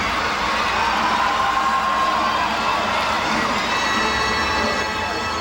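Loud, sustained cheering from a packed arena crowd at a women's gymnastics team final, a dense steady roar with scattered whoops and shouts that holds at full volume throughout.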